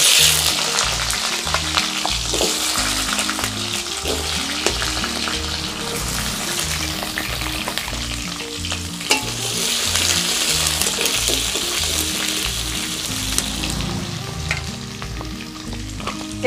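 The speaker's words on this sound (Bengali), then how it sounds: "তাহলে বন্ধুরা প্রথমে আমি আলুগুলো ভেজে নেব" Potatoes fry in oil in a pan, with a loud, dense, continuous sizzle and occasional stirring, heard up close with no talking.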